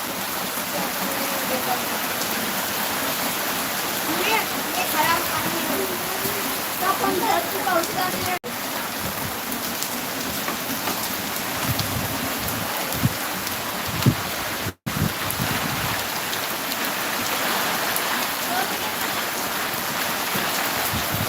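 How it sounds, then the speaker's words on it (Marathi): Heavy rain pours down over a village in a steady, dense hiss that stays even and loud throughout, with a few faint knocks and nearby movement in the background. "खूप पाऊस झाला आहे आमच्या गावाला चालू"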